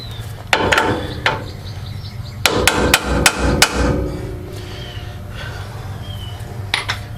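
A few sharp hammer taps seat a ball joint into its press-fit bore on a 2012 Ford F-150 during suspension work; a quick cluster of close metallic strikes after a couple of single knocks, no talking.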